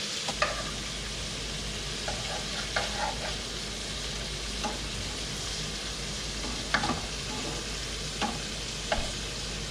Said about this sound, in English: You're gonna want your shrimp to start looking like this, and then flipping them